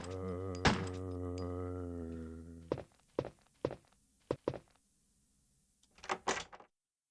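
A door being unlocked in a Resident Evil video game: a long sustained tone, then a series of sharp, isolated mechanical clicks and clunks, ending in a louder double thunk before silence.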